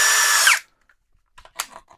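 An ELTOS cordless drill-driver runs loud and steady for about half a second, its whine sliding as it spins down and stops, followed by a few faint clicks and handling taps as the spindle lock is tested.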